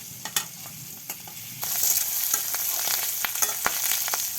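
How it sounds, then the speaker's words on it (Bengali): Eggs sizzle and crackle in a hot pan in a village kitchen, a steady close frying hiss that grows louder partway through, with scattered sharp pops and scraping stirs. "ডিম ভাজি করা হয়ে গিয়েছে, এখন তুলে নিচ্ছি"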